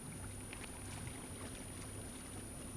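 A steady, low boat engine drone at night on a sea crossing between Corsica and mainland France, constant broadband rumble, continuous and unbroken, in quiet surroundings.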